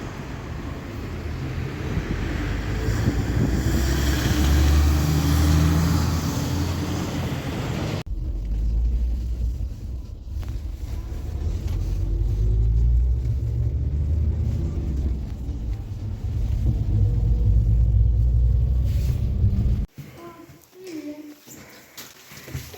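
Car interior on the drive home from a hospital trip, a steady low engine and road rumble with wind noise lasting about twenty seconds, then cutting off abruptly near the end.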